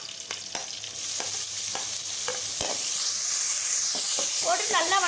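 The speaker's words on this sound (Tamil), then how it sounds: "ஒரு சின்ன பெரிய வெங்காயத்தை இந்த மாதிரி நல்லா பொடியாக கட் பண்ணி போட்டுக்கலாம்." Mustard seeds, crushed garlic and finely chopped onion frying in hot oil for a Tamil lentil-ball curry, a steady loud sizzle with sharp popping crackles and occasional stirring clatter, building as the onions go in.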